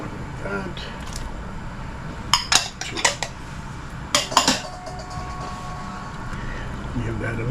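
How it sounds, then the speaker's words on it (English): A kielbasa sausage and beef stew with potatoes is stirred in a pot, with several sharp clinks of a utensil against the pot rim in the middle, over a steady background hum with some talk. "Give that a nice stir."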